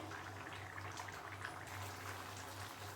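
Arhar dal simmering in a pot as its water cooks off, a faint continuous bubbling and gentle popping with a low steady hum beneath, quiet and even throughout.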